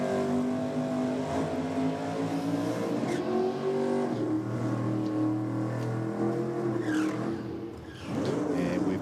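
A drag racing car, a Holden Torana, idles on the start line with a deep, steady engine rumble and a brief dip and swell of revs near the end, loud and continuous with no talking.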